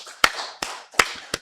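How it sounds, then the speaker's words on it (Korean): A few sharp hand claps ring out at an uneven pace, loud and close, during a Sunday worship service at a Full Gospel church as the congregation claps in praise. "살아계신 하나님께 박수로 영광 돌리겠습니다"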